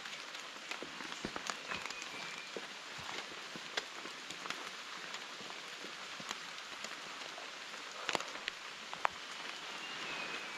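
Rain falls steadily on a mountain trail in Nagaland's Dzukou Valley, a faint continuous patter with scattered sharper drips and taps throughout.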